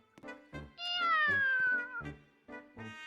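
A person's voice imitates a cat's meow in a Roblox game setting, one long drawn-out falling meow between short clipped vocal sounds, close and fairly loud with a little background talk.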